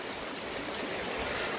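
Clear mountain stream water flows steadily in a forest on a hillside, a soft, even rushing wash heard alone and at a moderate distance, without pauses or voices.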